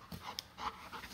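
A happy, likely hungry dog found near some garbage pants in quick, breathy bursts close by, the rapid huffs repeating for about a second with no one talking.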